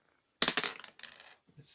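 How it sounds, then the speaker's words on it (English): Dice rolled in the Raid on St. Nazaire board game, a quick close clatter of several hard taps and rattles lasting about a second, trailing into a couple of soft final knocks. "we have to roll the white dice"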